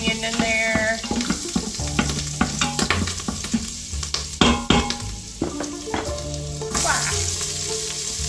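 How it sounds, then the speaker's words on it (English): Onion frying in melted butter in a pot, a steady sizzle with clattering stirs and scrapes of a utensil running throughout, close and fairly loud. "Then you're going to throw the onion in there."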